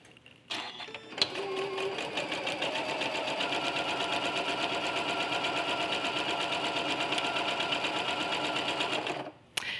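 A quilting sewing machine runs long basting stitches with a fast, even mechanical chatter for about eight seconds, starting and stopping cleanly, close and fairly quiet.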